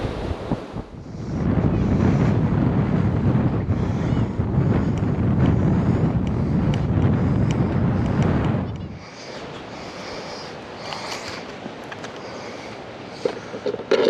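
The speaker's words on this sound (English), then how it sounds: "Okay, so it got super windy out on the beach." Strong wind buffets the microphone on an open beach during surf fishing at Hilton Head Island, a loud continuous roar that drops to a lighter gusty rush with surf noise about halfway through.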